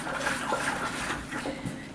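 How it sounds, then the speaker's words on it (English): Home brew yeast mixture being stirred with water in a container, giving a steady close swishing and sloshing of liquid that continues without a break for about two seconds. "now we just want to stir this around"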